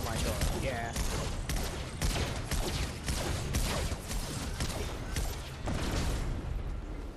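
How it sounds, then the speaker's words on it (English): Rapid bursts of gunfire aimed at a player in a Fortnite match, loud and dense volleys crackling repeatedly across the scene with brief gaps between them. "I can't even dodge all these shots, honestly."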